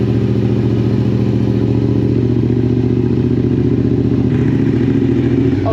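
A Suzuki SV650 motorcycle with a dyno flash tune idles loud and close, its steady low engine throb pulsing evenly throughout, with a slight change in tone near the end.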